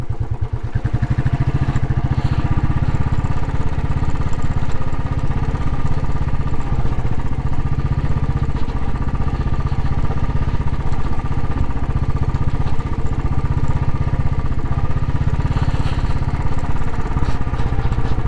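A Royal Enfield Classic 500 motorcycle engine runs steadily on a winter ride, with a loud, continuous thumping drone and mechanical clatter that holds at an even level throughout.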